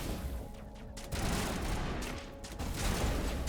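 Video game gunfire against a wall, rapid bursts of shots in a dense fusillade, moderately loud and continuous without clear speech.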